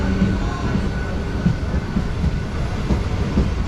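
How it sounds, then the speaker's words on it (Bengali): A Panskura–Digha local train pulls out of a station with a steady, dense rumble and faint rhythmic wheel clatter, continuous and fairly loud with no voices. "ওখান থেকে লোকাল ট্রেনটা বেরিয়ে যাচ্ছে। এটা হচ্ছে পাঁশকুড়া লোকাল, এখন দীঘা যাচ্ছে"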